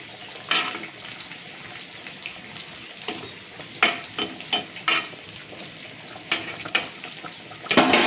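Fish head and pieces frying in hot oil for a Tamil fish curry, a steady crackling sizzle with several louder bursts and spatters as pieces are added and turned, close and without talk.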